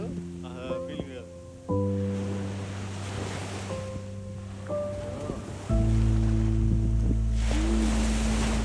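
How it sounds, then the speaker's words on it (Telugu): Ocean waves wash against a seashore in a broad, steady roar that swells louder toward the end, with sustained musical tones and a voice layered over it. "ఆ అలల శబ్దంలో ఒక ప్రశాంతత ఉంది."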